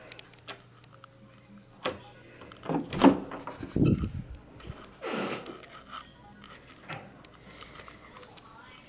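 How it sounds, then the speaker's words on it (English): A dorm room door at Middle Georgia State University is unlatched and swung open, heard as a few close clicks and a brief creaking swish amid soft handling noises, with no talk. "I'm just gonna open the door"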